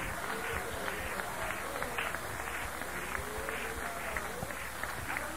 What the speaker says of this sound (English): Would you clap for the Lord and just worship Him if you believe that tonight?